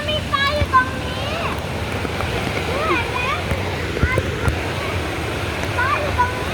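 Khlong Chao waterfall, a steady broadband rush of falling and splashing water, continuous and fairly close, with children's voices and calls layered over it throughout.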